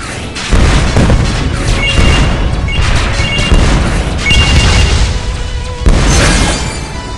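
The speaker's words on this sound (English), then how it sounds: "Burning rocket." Loud, continuous crashing booms of a burning rocket exploding in the mobile flight combat game WinWing, dense layered blasts with a fresh impact surging near the end, no talk.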